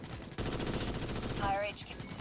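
Rapid automatic gunfire from a weapon in the video game Starship Troopers: Extermination, a steady fast burst running nearly the whole stretch after a brief quiet start, with a faint voice briefly underneath.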